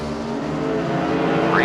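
Drag cars roar at the start of a Competition Eliminator race at Belle Rose, Louisiana, one an automatic K altered with half a Pro Stock engine, another with a 250 cubic inch inline Ford, a loud sustained rising engine snarl under faint commentary.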